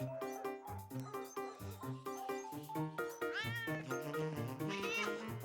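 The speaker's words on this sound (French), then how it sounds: "Bonjour, petit chat." A cartoon cat meows repeatedly in an indoor hall, rising and falling calls layered over busy music throughout.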